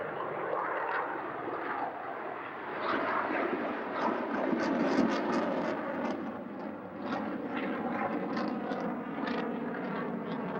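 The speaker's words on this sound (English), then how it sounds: "Just an example of the power of the Pratt & Whitney engine." A General Dynamics F-16 jet with a Pratt & Whitney engine roars steadily overhead at a 1991 military air show at Barnes ANGB, a loud, sustained, rushing jet noise that swells and holds for several seconds with no talk.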